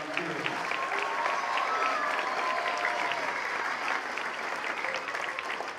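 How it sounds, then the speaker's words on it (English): A crowd at a Veterans Day celebration claps steadily, a sustained round of applause that holds at an even level from start to finish. "Round of applause for all of our volunteers."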